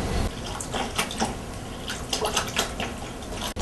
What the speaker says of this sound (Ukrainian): Починаємо з того, що ми у ємкість заливаємо холодну водичку.